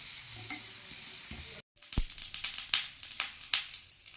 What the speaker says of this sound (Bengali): এবার তাওয়ায় এটা দিয়ে তেল দিয়ে ভেজে নেব।